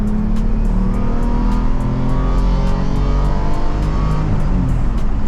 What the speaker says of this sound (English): You really got to rev her out to get her moving